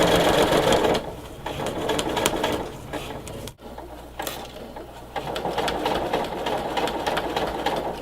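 A sewing machine runs steadily, stitching a seam across pieced quilt blocks without backstitching; the motor's continuous whir fills the clip at close range, with a brief stop partway through before it resumes.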